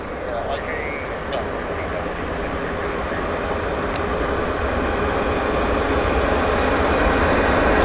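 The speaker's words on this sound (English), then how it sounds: "Finally, this Boeing is moving." A Boeing airliner on the move at Vancouver airport makes a steady, broad engine roar that swells slowly while people talk over it.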